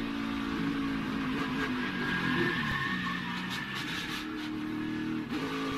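NASCAR stock car heard from the onboard camera during a race: a loud, sustained engine roar with shifting pitch as the car slides loose through a corner, with no voices.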